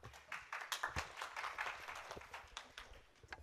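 Audience applause welcoming a speaker at a tech conference talk on Docker, a faint scatter of hand claps from a modest crowd, uneven and slightly distant, tapering off toward the end.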